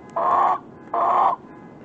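A chicken gives two loud, drawn-out squawking clucks close by, separated by a short pause.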